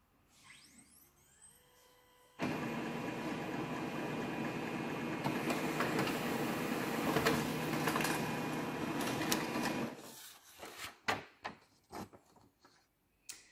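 A Xerox B205 laser printer prints info pages with a steady mechanical whirr and rumble of rollers lasting several seconds, ending in a run of clunks and clicks as the paper feeds out, close and fairly loud.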